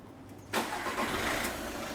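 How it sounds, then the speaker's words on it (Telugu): A Volkswagen Polo 1.5 TDI diesel engine cranks and catches after a brief quiet moment, then settles into a steady, fairly close idle. "ఇంజిన్ అయితే ఫాస్ట్గా స్టార్ట్ అవుతుంది"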